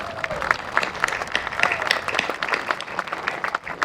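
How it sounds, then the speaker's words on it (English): Crowd applause at the grand reopening of a town square park, an outdoor gathering clapping for the park workers with close, uneven individual claps over a fuller wash of hands, a few voices faintly underneath. "Let's give them a round of applause."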